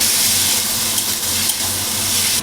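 Turmeric, chili powder and a cumin-fennel paste frying in a pan with potatoes, onions and tomato: a loud, steady sizzle close up, continuous for the whole moment with faint stirring scrapes.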